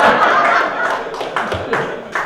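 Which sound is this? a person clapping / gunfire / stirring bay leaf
a person clapping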